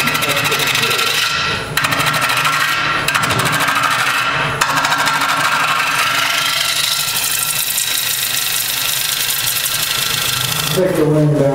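Continuous loud scraping and rasping of a gouge cutting into spinning wood on a woodturning lathe as the turner trims off extra weight, steady throughout with a few brief breaks, under talk from the turner.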